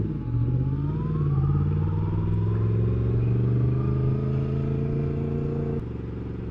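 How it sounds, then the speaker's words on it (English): Motor vehicle engine droning steadily on a rural Lake District road near Wastwater, with a low rumble and rising and falling revs throughout, heard from on the bike itself rather than bikes passing by distinctly. "Passing quite a few bikes over this route."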